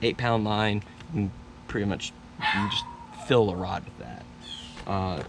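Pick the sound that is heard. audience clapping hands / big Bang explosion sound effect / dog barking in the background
dog barking in the background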